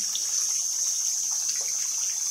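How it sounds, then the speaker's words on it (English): Tap water runs in a steady, bright hiss while cast resin model kit parts are rinsed under the faucet, with no talking over it. "So you just want to lightly rinse this stuff off and then scrub it with a toothbrush."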